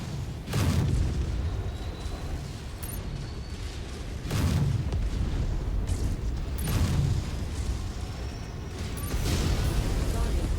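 Heavy booming blasts from an enemy mech blowing up in MechWarrior 5: Mercenaries, arriving as several deep explosions spaced a few seconds apart over a continuous low mechanical rumble.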